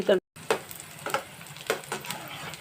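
Potato poha cutlets frying in a pan, a steady soft sizzle broken by repeated spatula scrapes and stirring taps at regular intervals, close and moderately loud.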